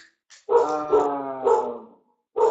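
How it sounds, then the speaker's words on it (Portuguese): A dog barks close by in a quick series of three or four loud, harmonic barks, followed by a short pause and another bark at the end, with no talking over them. "que ela está latindo aqui, está causando, está atrapalhando o curso"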